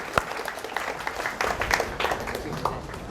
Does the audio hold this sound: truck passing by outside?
no